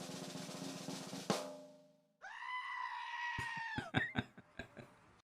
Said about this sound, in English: I love the goat sound.